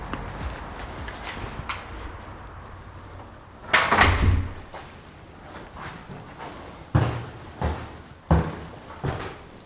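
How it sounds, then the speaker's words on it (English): The communal front door of an apartment building in Vesterbro, Copenhagen, opens and closes, giving one heavy thump midway and two sharper knocks near the end over steady street and room noise. "this is the communal entrance of the front door as well"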